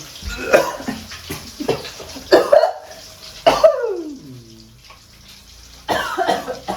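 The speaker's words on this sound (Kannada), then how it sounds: "ನನ್ನ ಕೆಮ್ಮು ಇಷ್ಟೇ ಇಷ್ಟೇ ಇದು." A person coughing in short, close bursts, a few rough hacks spread across the moment, with water running faintly in the background.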